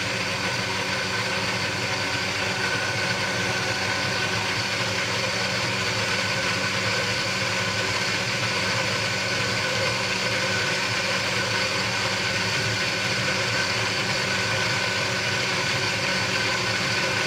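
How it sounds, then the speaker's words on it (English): A KitchenAid blender whirs continuously through a thick coconut mixture, a steady close motor drone with a constant pitch and no breaks. "So I'm going to give it one more blend"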